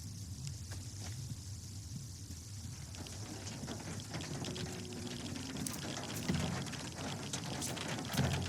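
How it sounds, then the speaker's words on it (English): Rain falling in the game S.T.A.L.K.E.R. 2, a quiet, continuous hiss of drops pattering on surfaces, steady throughout with a few slightly louder splashes near the end. "it's raining, so screw my desire for daylight"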